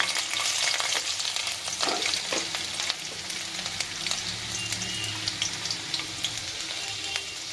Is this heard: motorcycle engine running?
no